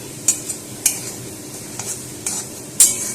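Green chilies, salt and turmeric are stirred into onions frying in a pan, a low sizzle broken by about six sharp spatula scrapes and clacks spaced unevenly over a few seconds.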